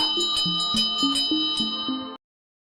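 A bell sound effect rings in a quick run of about eight bright strikes, each with a ringing tail. The strikes are evenly spaced, clear and alone, then stop abruptly.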